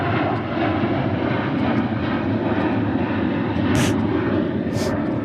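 A Cathay Pacific airliner comes in to land at DFW, its engines a steady, broad roar from a moderate distance, sustained throughout.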